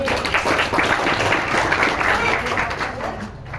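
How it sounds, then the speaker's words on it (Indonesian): An audience applauds steadily for a few seconds at a motivational seminar in Malang, a broad, even wash of clapping that holds at a consistent level before tapering slightly at the end. "aplaus buat Anda"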